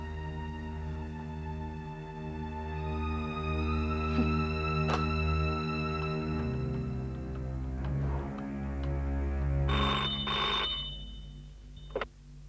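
Telephone bell ringing repeatedly during a call, a steady, loud, sustained electronic ring with harmonic tones, heard alone with a few clicks near the end.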